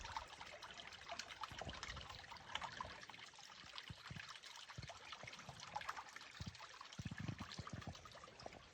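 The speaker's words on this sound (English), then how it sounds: "What a nice footbridge and the little stream under here." A small woodland stream trickles and burbles beneath a footbridge on a shaded hiking loop in Big Canoe, Georgia, a steady close babble of running water with light splashes throughout and no talking.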